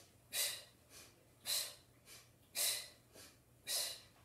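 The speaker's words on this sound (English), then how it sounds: "And sniff, blow, sniff, blow." Rhythmic sniff-and-blow breathing paced to a twisting lateral-chain exercise at home, about seven sharp airy bursts alternating stronger and softer in a steady beat, close and clear with no talking.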